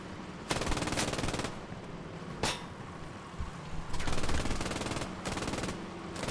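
Bursts of automatic rifle and machine gun fire with single shots in a chaotic close-quarters firefight inside a town hall in the WWII game Squad 44, loud and dense with short pauses between bursts.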